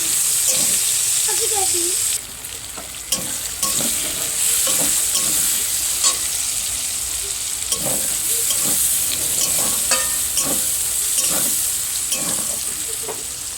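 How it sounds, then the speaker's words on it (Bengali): Onion and tomato fry in oil with whole garam masala and cumin in a pan, a steady sizzle broken by repeated scraping strokes of a stirring spoon, close and loud throughout. "সুন্দর করে লাল লাল করে পেঁয়াজ আর টমেটোটা ভেজে নেব।"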